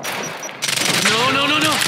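A firefight rages in Quantum Break, with rapid bursts of automatic gunfire rattling continuously and loudly. A voice talks over the shooting.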